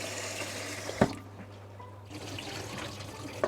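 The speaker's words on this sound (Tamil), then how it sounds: "நல்லா தண்ணியை ஒட்டை வடித்து வச்சுக்கொள்ளுவோம்" Water drains from rinsed basmati rice as a soft, continuous trickle and splash, with a sharper clink or splash at the start and end. Quiet and close, with no talking.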